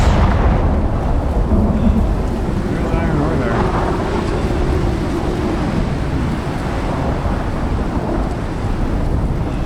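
Thunder rumbles steadily with rain in a thunderstorm in the survival game Icarus, a loud continuous roar beneath a voice.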